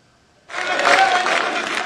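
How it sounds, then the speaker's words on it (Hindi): Applause starts abruptly after a short silence, a dense burst of many hands clapping at a BJP parliamentary party meeting that carries on steadily and loudly. "तालियों की गड़गड़ाहट के साथ भाजपा संसदीय दल की बैठक में प्रधानमंत्री नरेंद्र मोदी का जोरदार स्वागत।"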